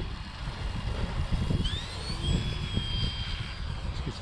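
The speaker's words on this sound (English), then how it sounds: "Let's get some flying in with the EVO timber." An E-flite EVO Timber RC model airplane, powered by a 2200 battery, flies at a park in crosswinds, its high motor whine rising and sweeping past over gusty wind rumble.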